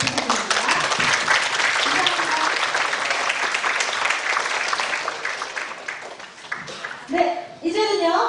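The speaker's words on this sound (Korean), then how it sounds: "박수 부탁드립니다." An audience at a youth forum with a chief prosecutor gives steady, full applause for most of the stretch, then it tapers off as a voice begins speaking.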